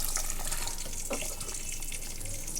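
Warm water poured into mutton curry in a pressure cooker, a steady close splashing pour that runs unbroken.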